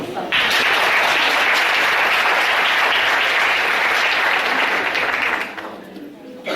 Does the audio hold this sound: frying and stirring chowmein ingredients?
no